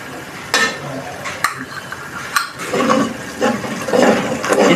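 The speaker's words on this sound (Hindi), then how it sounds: "इसको 1 से 2 मिनट भून लें मसाले को अच्छी तरह।" Spices for beef kofta frying in a pan, a loud, close, hissing sizzle with scraping stirs and clatter of a spoon against the pan, growing busier toward the end.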